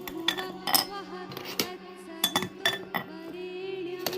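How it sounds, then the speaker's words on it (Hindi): Pieces of broken marble tile clink and clatter as they are dropped one by one into a planter holding a money plant, a string of sharp hard knocks at an uneven rhythm over a steady low hum. "ये मार्बल के टुकड़े हैं। इससे हम इसको इसमें डालेंगे"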